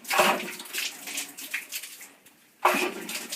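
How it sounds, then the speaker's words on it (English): Air and water rush and sputter out while air is bled from a full household water heater tank after an element replacement, with close, uneven hissing gushes, a brief lull and then a fresh loud spurt. "we're going to relieve some air that's in that tank."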